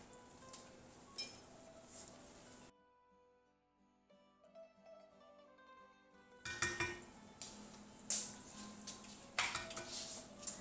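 A spoon scrapes and clinks against a pot while risotto is stirred, with irregular metallic knocks and rattles. The sound drops to near silence partway through, then the stirring comes back louder and busier.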